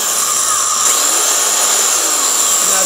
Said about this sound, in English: It's a belt sander.